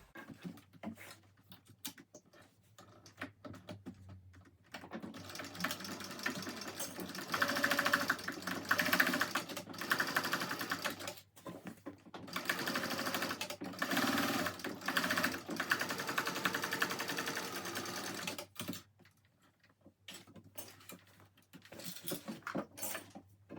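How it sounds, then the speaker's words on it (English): A sewing machine stitches close to the edge of a backpack made from a Country Cow Designs pattern, running in several bursts of varying length separated by brief pauses, fairly quiet and close. "I'm just going to sew through this as close as we can to the edge, maybe about 1/8 of an inch"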